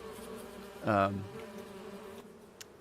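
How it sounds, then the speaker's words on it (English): A bee buzzes in Farming Simulator 25, a brief loud drone swelling close by for about half a second before fading under the game's quiet ambient hum. "I just heard a bee go into my ear."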